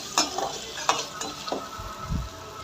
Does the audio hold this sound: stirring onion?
yes